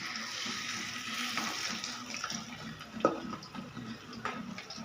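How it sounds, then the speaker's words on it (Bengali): Leaves dipped in batter fry in hot oil, a steady soft sizzle and crackle with a few small pops, moderately close and fairly quiet throughout. "পাতাগুলো একটা ব্যাটারে চুবিয়ে নিয়ে তেলে ফ্রাই করছি।"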